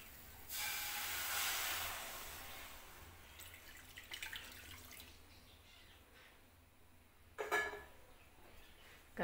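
Carrot batter hits a hot pan with a brief soft hiss and splash, then quieter clatter and a second short burst of sizzling, all faint and close.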